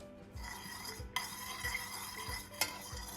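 Cherry syrup for a Black Forest cake being stirred in a pan, with soft rhythmic swishing strokes recurring at regular intervals and a couple of light utensil clinks against the vessel.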